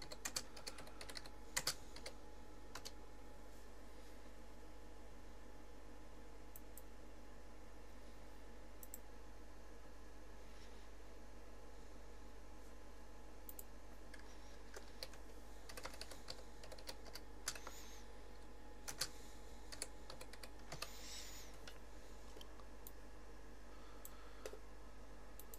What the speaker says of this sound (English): just quickly type that in